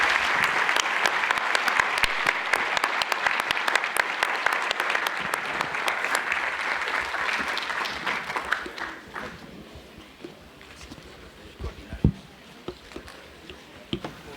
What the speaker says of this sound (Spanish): quiero hacer una solicitud de un caluroso aplauso a Irene, Víctor, James, Ángelo y Augusto